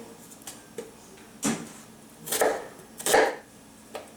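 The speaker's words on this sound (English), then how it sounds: "I'm just cutting up this potato here in 1-inch cubes" A knife cuts a potato into one-inch cubes on a board while roast chicken vegetables are prepared, giving a few separate chopping thuds, two louder strikes in the middle, and fainter taps before and after, with no talking.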